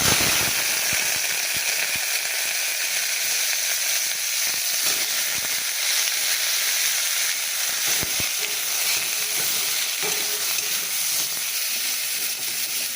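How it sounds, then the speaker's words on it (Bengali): Cauliflower fries in hot oil, giving a loud, steady sizzle and hiss that runs unbroken throughout, with scattered crackles and faint stirring clatter. "আর ফুলকপিটা একটু ভেজে নেবো, ফুলকপি ভেজে না নিলে হবে না।"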